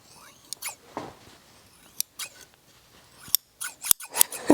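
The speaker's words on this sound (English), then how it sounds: "It's funny because you can even kind of hear it. I'm cutting next to my microphone." Close, crisp snips of rusty scissors cutting, several sharp scraping cuts in irregular bursts, getting quicker and louder toward the end.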